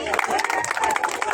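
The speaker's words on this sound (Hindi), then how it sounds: "एक बार जोरदार तालियां होनी चाहिए" A rally crowd claps and cheers loudly in a dense, continuous wash of applause, with voices shouting among the clapping throughout.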